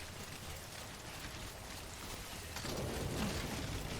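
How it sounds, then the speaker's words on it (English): Rain falls in the video game Death Stranding as a soft, steady hiss that swells a little louder toward the end. It is heard alone, with no voices. "Bloody rain."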